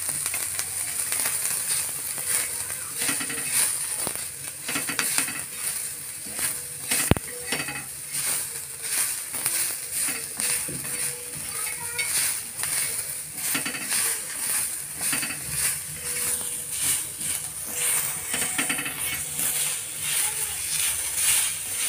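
Onion frying in a little oil, a continuous sizzle with spoon stirring and occasional pan clinks, moderately loud and steady with no talk.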